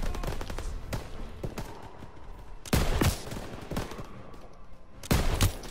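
Gunfire in a WW2 shooter game: a continuous crackle of distant shots with several loud, close bursts standing out, one near the middle and one near the end.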